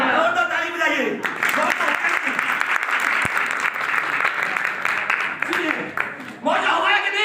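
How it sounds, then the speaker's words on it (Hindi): A church congregation claps their hands during a Christmas service, loud dense applause filling the room continuously, with voices mixed in underneath and a brief dip near the end before clapping resumes. "और तो ताली बजाइए।"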